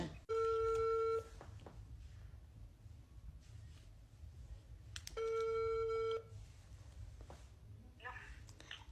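An outgoing phone call rings on a line, two loud electronic ring bursts about four seconds apart, with quiet line noise and faint voice sounds in between.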